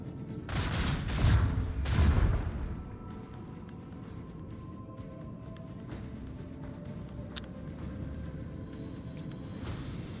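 Torpedoes launching in Warhammer 40K Rogue Trader: a few heavy booming blasts in the first seconds, then a low rumbling ambient bed with occasional faint clicks, with no talk.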